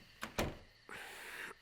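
A door closing indoors: a couple of sharp knocks, then a brief sliding sweep that ends abruptly, heard faint and fairly near with no talk.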